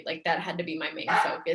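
Dogs barking and yipping indoors behind a person talking, several sharp barks mixed under the steady voice throughout.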